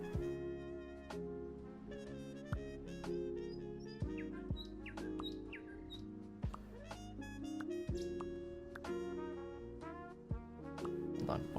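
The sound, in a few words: ocean birds calling along a beachfront, from a video game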